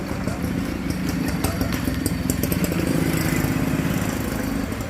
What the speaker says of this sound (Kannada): ಗಾಡಿ ಬರ್ತಾವ ಆಜು ಬಾಜುಕ